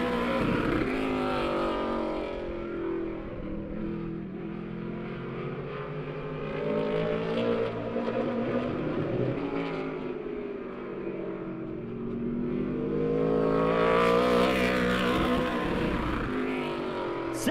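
Race cars roar around the I-44 Speedway oval in Lebanon, their engines droning and swelling together as they come by and pull away, with a louder surge near the end.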